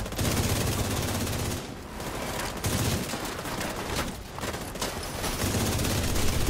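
Sustained automatic gunfire from shooting enemies in The Division, rapid bursts with brief pauses between them, loud and dense over the game's background noise, with no voices.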